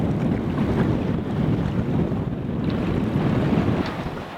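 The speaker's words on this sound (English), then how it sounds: "Big yellow boat coming directly our way." A big yellow Coast Guard rescue boat approaches at sea off Australia, its engine rumble lost in a steady low roar of heavy wind buffeting and waves, loud and continuous with no voices.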